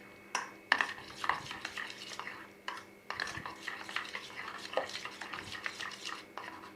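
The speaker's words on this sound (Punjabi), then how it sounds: "ਘਿਓ ਦੇ ਵਿੱਚ ਇਹ ਮਸਾਲਿਆਂ ਨੂੰ ਸੇਕ ਲੱਗ ਜੂਗਾ ਇਹਨੂੰ ਫੈਂਟਣਾ ਆਪਾਂ ਚੰਗੀ ਤਰ੍ਹਾਂ" A spoon scrapes and clanks against a pan as spices are stirred in hot ghee for dhaba-style paneer bhurji, with repeated close metallic knocks over a faint sizzle and no talking.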